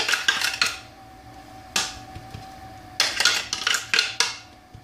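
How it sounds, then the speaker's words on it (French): Blended cake crumbs for a no-bake layered dessert are poured into a bowl, giving bursts of clinking and scraping against the dish, with short clattering clusters separated by quiet pauses. "Je verse mes gâteaux mixés dans un bol."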